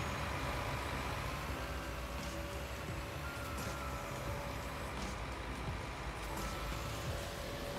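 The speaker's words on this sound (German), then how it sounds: "Der ist halt der Traktor auf jeden Fall." A tractor engine in Farming Simulator 2019 runs steadily at a constant drone, with faint beeps and clicks on top and no talking.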